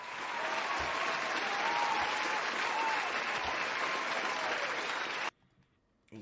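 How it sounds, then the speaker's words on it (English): Crowd applause for a medical staff, a dense, steady roar of clapping that holds evenly for about five seconds and then cuts off sharply into near silence. "Let's give them a round of applause."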